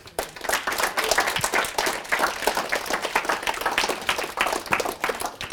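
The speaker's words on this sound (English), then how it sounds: "Let's give applause." Audience applause after a talk by an architecture studio leader, a burst of many hands clapping that starts abruptly and holds steady and fairly loud until the end.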